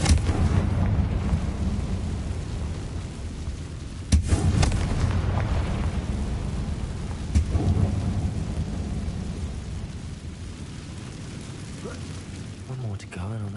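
Confringo spell blasts in Hogwarts Legacy go off as sudden booming explosions, two sharp hits standing out over a continuous rumbling, stormlike game ambience, with speech around them.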